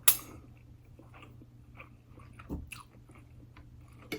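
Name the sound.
biting crunchy air-fried food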